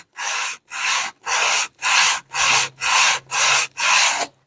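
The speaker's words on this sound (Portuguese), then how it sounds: "Pronto, já lixei essa parte" Sanding the inside of a wooden whisky box by hand, heard as eight even, rhythmic rasping strokes of sandpaper on wood, close and distinct with brief gaps between each pass.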